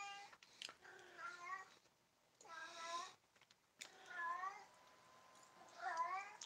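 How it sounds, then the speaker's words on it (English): Sushi, a female cat in heat, lets out a series of loud, drawn-out wavering yowls and meows, about four calls separated by short quiet gaps. "my stupid cat. Sushi's in heat. That's what you're hearing right now"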